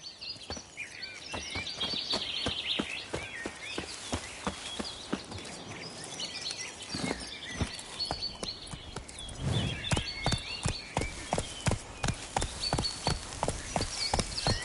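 Roach, the horse in The Witcher 3, gallops with steady, rapid clip-clop hoofbeats close by, with faint birdsong in the background and no talking.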